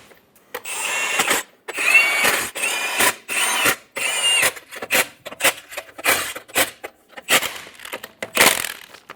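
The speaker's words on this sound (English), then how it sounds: "Install the lug nuts." Lug nuts being run onto a 2014-2018 Chevrolet Silverado front wheel with a power tool, heard as a series of short, loud mechanical bursts with brief gaps between them, close by, with no talking.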